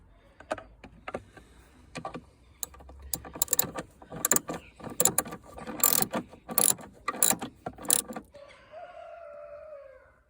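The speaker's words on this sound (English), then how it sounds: "let's tighten the 2 bolts that hold the reservoir in place, both of them 10mm hex" Ratchet tightening two 10mm hex bolts that hold a plastic coolant reservoir on a 2014 Kia Sportage 2.0 CRDI, a close run of sharp clicking bursts in an irregular rhythm, ending in a brief whirring tone.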